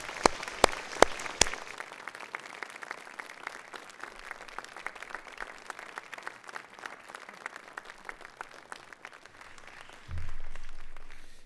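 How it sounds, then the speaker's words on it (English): A graduation ceremony audience at the University of Aberdeen applauds: a few sharp early claps swell into sustained, even clapping across the hall, fading slightly before a closing swell of broadband noise. "To turn to those in this room who have supported you through your studies and give them a round of applause"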